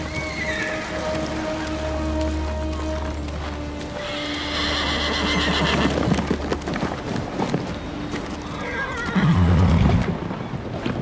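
A horse neighs and whinnies in Ghost of Tsushima, with hoofbeats clip-clopping under a steady ambient game bed and a second loud whinny near the end.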